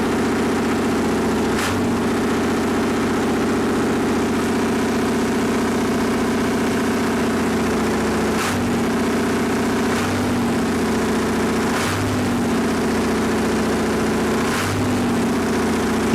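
A Perkins diesel generator engine idles steadily and loudly, with a constant throbbing drone broken by several sharp transient bursts as the throttle is pushed open and the governor snaps the engine back.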